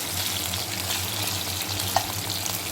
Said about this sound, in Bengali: মাছগুলোকে আমি লাল লাল করে ভেজে নেব।